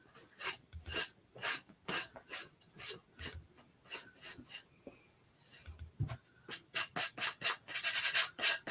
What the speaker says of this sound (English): there's just something about sanding those edges that I really like.